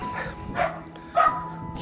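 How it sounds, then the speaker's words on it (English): A dog barks a few short yips in the distance outdoors at a residential property with a small back garden and greenhouse, the barks coming in separate bursts. "dog barking"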